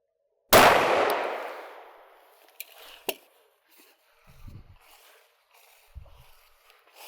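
A 9mm hollow point round is fired through sections of a house wall: one loud, sharp gunshot with a long decaying ring, then faint knocks and low thuds.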